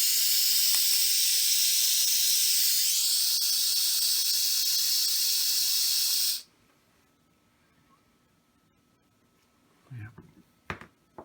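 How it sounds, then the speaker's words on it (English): An airbrush sprays with a loud, steady hiss for about six seconds, then cuts off, followed by quiet and a few faint clicks. "I need the airbrush on that bit."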